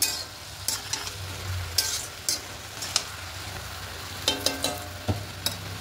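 Spinach and fish head curry being stirred in a pan, a spatula scraping and clinking against the metal in irregular strokes over a low simmering sizzle.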